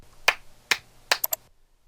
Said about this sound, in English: we basically indicated those places by clapping 3 times